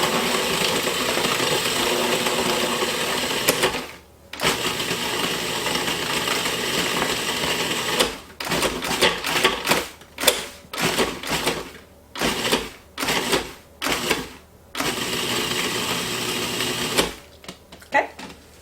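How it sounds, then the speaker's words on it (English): A food processor purees pie-crust ingredients into fine crumbs in a kitchen, running in long steady whirs at first, then in a series of short pulsed bursts with brief pauses between them. "we're going to puree them until they're itty bitty crumbs."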